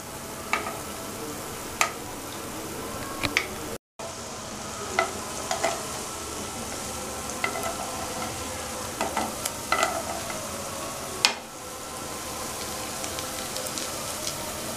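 Amriti sweets frying in about an inch of oil give a steady bubbling sizzle with scattered crackles and pops, close and continuous, with a brief break partway through.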